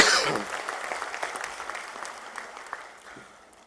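Applause from an audience at a political party assembly starts loud and fades steadily over a few seconds, with scattered individual claps near the end.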